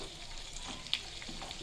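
Pumpkin seeds frying in a pan for a sajjalu and sabudana payasam, a faint, steady sizzle with light scattered crackles and pops.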